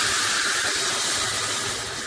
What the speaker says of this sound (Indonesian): bumbu yang sudah di blender ditumis dengan minyak di presto